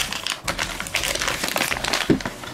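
Small plastic bags crinkle and rustle steadily during a toy unboxing of SuperThings T-Racers figures, close up and busy with brief sharper crackles, no talking.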